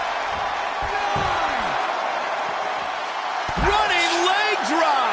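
A running leg drop slam in the WWE 2K20 wrestling video game lands amid a loud, roaring arena crowd noise, with a sharp impact thud near the start and whooping cheers swelling later, under a commentator's voice.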